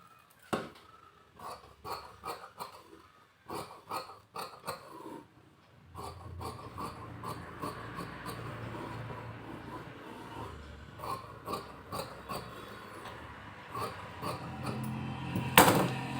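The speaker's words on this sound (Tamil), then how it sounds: "இப்போ இதை வந்து நம்ம கட் பண்ண போகிறோம்" Fabric being cut for patchwork, with a series of crisp rasping snips and scissor sounds at an irregular pace, close and fairly quiet, sometimes running into longer rustling strokes.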